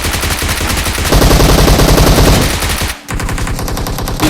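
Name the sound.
gunfire in BGMI video game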